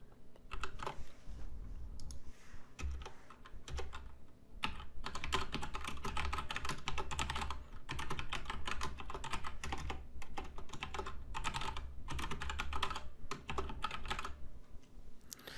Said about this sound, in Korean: 제가 타이핑할 때 여러분도 같이 타이핑해서 구문을 실행시켜 보세요